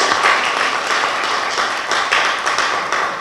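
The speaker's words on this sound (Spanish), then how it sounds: "Vamos a despedirla con un fuerte aplauso" Steady, dense audience applause fills a conference hall at the close of an international lecture on the French judicial system, continuous and fairly loud without a break.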